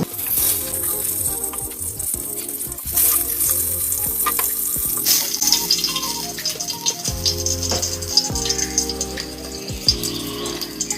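Egg paturi parcels fry in mustard oil with a steady, close crackling sizzle and occasional rattles of a pan or utensil, no voices present.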